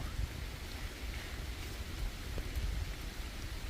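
Steady rain pours down outdoors along a roadside during wild mushroom foraging, a dense continuous hiss with no talk.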